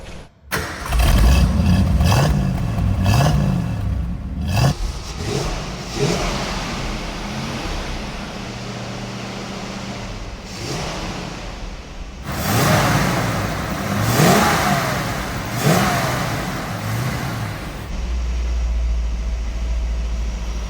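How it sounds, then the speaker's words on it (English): A 1967 Ford Mustang engine cranks and fires, then revs repeatedly with a deep, throaty exhaust note, settling to a rumbling idle between loud bursts. "You can tell when you listen to the exhaust, that throaty sound to it."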